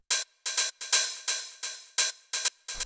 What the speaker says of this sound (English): After this, we have this 909 hi-hat, which sounds like this.